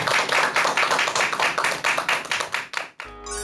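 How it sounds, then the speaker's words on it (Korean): A lecture audience breaks into loud, rhythmic applause for about three seconds, the clapping dense and close before it cuts off abruptly and a short musical tone follows. "여러분 큰 박수 부탁드립니다"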